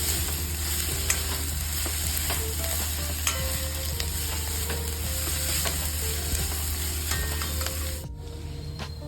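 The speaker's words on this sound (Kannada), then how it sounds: "ಈಗ ಈರುಳ್ಳಿ ಸ್ವಲ್ಪ ಗೋಲ್ಡನ್ ಬ್ರೌನ್ ಆಗೋ ತನಕ ಇದನ್ನು ಫ್ರೈ ಮಾಡ್ಕೊಳ್ಳೋಣ" Onions and green chillies fry in oil in a pan, a steady close sizzle with occasional stirring scrapes throughout, fading slightly near the end.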